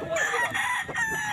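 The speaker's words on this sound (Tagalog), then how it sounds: "yan yung mga manok ni Buslan." A rooster crows loudly and close by at a pet market in San Jose del Monte, Bulacan, one drawn-out cock-a-doodle-doo call standing alone.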